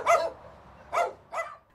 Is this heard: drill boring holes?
no